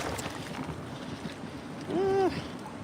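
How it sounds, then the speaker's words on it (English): Wind rushes steadily past a boat cruising between islands after a hurricane, with a brief whistling tone rising and falling near the end. "Might be too much wind, to be honest with you."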